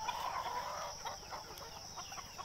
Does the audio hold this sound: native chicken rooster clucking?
yes